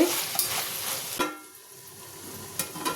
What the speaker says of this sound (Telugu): ఇప్పుడు దీనిలో సన్నగా కట్ చేసుకున్న ఒక టమాటాని మంచిగా మగ్గించుకోవాలి, మెత్తగా అయ్యేలాగా. మూత పెట్టి